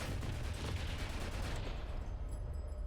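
Helicopter cannon fire in War Thunder, heard as a dense, rapid rattle of shots over a continuous low rumble that thins out toward the end, with no talk.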